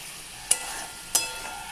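A spatula stirs a paste of melon seeds, poppy seeds, raisins, green chilli and tomato as it fries in a pan, giving two distinct scraping strokes over a soft, steady sizzle.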